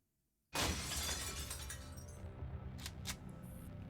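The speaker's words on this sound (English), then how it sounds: "The window covered by the curtains is suddenly smashed by the massive intruder" Window glass behind curtains smashes suddenly and loudly after near silence as a massive intruder breaks in, followed by a sustained crash of shattering and a few sharp clinks of falling shards.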